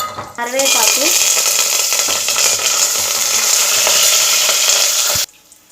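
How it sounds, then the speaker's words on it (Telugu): Mustard seeds, cumin, chana dal and peanuts frying in hot oil for upma, a loud steady sizzle with some crackle and stirring that runs for about five seconds, then cuts off abruptly. "ఆవాలు, జీలకర్ర, శనగపప్పు, వేరుశనగపప్పు వేయించుకుందాం"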